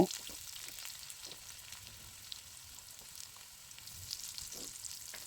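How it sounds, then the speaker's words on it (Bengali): Diced potatoes frying in leftover oil in a pan give a continuous soft sizzle with scattered faint crackles and small bumps, heard up close with no speech. "বাকি তেলে আমি দুটো ডুমো করে কেটে নেওয়া আলু একটু লাল লাল করে ভেজে নেব"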